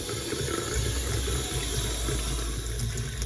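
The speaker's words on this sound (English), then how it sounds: "You go to your kitchen sink or your bathroom sink, and you're gonna relieve some pressure from the hot water." Hot water running steadily from a kitchen or bathroom sink faucet to relieve pressure from a water heater, a constant close rushing hiss with no voices.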